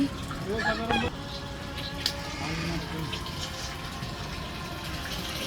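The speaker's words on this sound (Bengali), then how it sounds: "এদিকে হচ্ছে আমার খামার হাঁস মুরগিগুলো" Farm ducks and chickens clucking close by at the start, then a quieter farmyard backdrop with scattered distant clucks and a faint crow.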